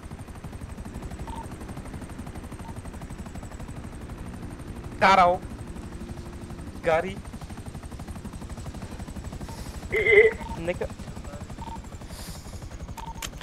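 A helicopter in a GTA roleplay game hums with a continuous rhythmic rotor chop throughout, while people speak briefly over it and a few sharp bursts cut in.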